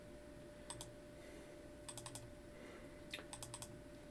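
Computer keyboard keys clatter in three quick bursts of typing, faint and close over a steady low room hum, with short pauses between bursts.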